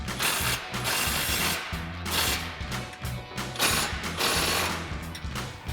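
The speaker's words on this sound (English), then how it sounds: "We're going to be using our 15mm socket and a 17mm wrench." Close, loud ratchet socket clicking in repeated bursts while tightening the bolts of a two-bolt exhaust flange on a Ford F-150 dual exhaust, with brief pauses between strokes.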